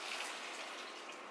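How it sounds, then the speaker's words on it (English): Sauce pours into a cooking pan in a new apartment kitchen, a dense, steady splashing hiss lasting just over a second at close range, without voices. "I'm gonna pour this sauce in now."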